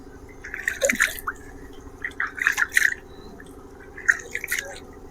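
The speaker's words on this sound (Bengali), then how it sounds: "এবার বাম হাত ধোবো" Water drips and splashes in a few short bursts as a left hand is washed during wudu, close and fairly quiet, with a faint steady hum underneath.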